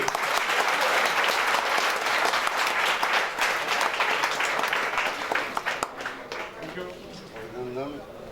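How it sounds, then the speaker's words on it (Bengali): Dense, loud applause from an audience at a campus journalism award ceremony, sustained for several seconds before thinning out as a voice starts speaking over the fading claps. "একটু জোরে হাততালি"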